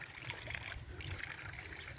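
Water trickling from a faucet in a park, a faint steady dribble and splash close by, with no talk heard.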